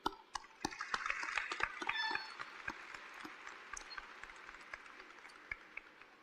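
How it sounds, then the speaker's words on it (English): A graduation audience applauds in a large hall, the clapping dense and lively at first and then thinning into scattered claps as it fades. "I do want y'all to clap it up for yourselves"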